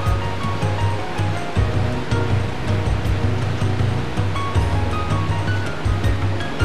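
The Loup river rushes past at Pont-sur-Loup near a power station and a broken bridge, a loud, constant broadband roar of fast water with a low steady hum beneath and no pauses.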